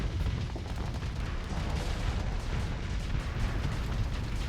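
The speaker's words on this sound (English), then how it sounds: "Maximum damage output. Torpedoes away." Torpedoes launch and explode in the space combat game Starsector, a dense, continuous rumble of booms and bursts with no break.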